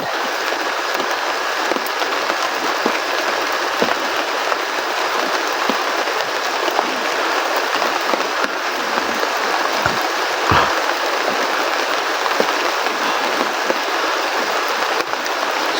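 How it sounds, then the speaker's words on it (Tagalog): Heavy rain pours steadily and loudly, a dense unbroken roar with occasional sharper drips and knocks. "lumalakas ng ulan, baka papasukan ng tubig yung sipik ko at hindi na tuloy gumana"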